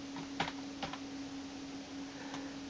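Keys tapped on a computer keyboard while typing Visual Basic code, a few faint, scattered clicks over a quiet room hum with a steady low tone, no speech.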